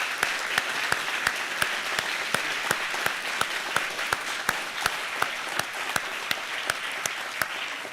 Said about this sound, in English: let's give our graduates one other round of applause